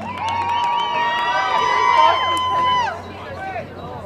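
Spectators in a cheering section at a youth soccer match cheer and shout after a goal, a loud crowd of mixed voices with whoops rising and holding for a few seconds before tapering off.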